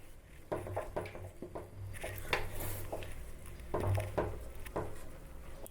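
Adhirasam dough of rice flour and jaggery syrup being stirred in a pot over a medium flame, with repeated soft scraping and knocks of a ladle against the metal pot and a steady low background hum, no talking.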